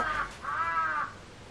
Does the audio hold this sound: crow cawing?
yes